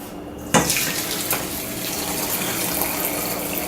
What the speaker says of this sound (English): I'm going to pour all of this into the little strainer